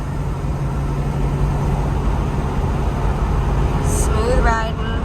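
A 1975 Pontiac Trans Am cruising down the road, with a steady low engine and drivetrain rumble and road noise heard from inside the cabin and no clear change in pace.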